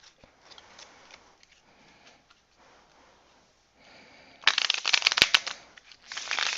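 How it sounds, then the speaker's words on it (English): A Malifaux card deck being shuffled: soft handling rustles at first, then a loud, close burst of riffling and snapping cards near the end. "let's shuffle a Malifaux deck"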